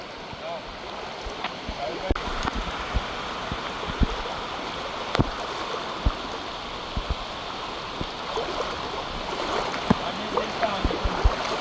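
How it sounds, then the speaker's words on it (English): Gully water overflows its banks and rushes across a road during a hurricane, a constant broad roaring wash with scattered splashes and knocks, while someone talks intermittently over it. "Gully overflow his bank. Overflow his bank. And take over the road."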